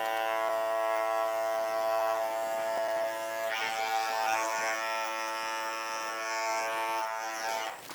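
A handheld electric beard trimmer runs continuously at close range while trimming a beard, a steady harmonic buzz that shifts slightly in pitch as it moves through the hair.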